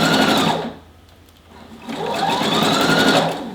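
A sewing machine stitching a puffy sleeve cottage core dress runs in a steady, close, loud mechanical whir, pauses briefly, then starts again and keeps going.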